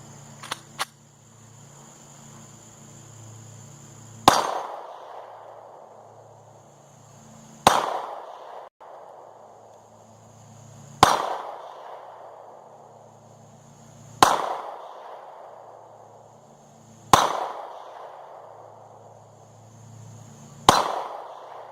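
Six loud, sharp Ruger LC9 pistol shots ring out one at a time, each about three seconds apart and followed by a short echoing decay, with a couple of faint clicks before the first shot.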